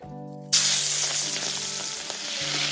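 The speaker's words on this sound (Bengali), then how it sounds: "চিংড়ি মাছটা হালকা ভেজে নেব" Raw prawns rubbed with salt and turmeric drop into hot mustard oil and burst into a loud, steady sizzle that continues without a break after a quiet start.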